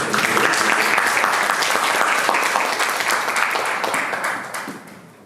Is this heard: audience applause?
yes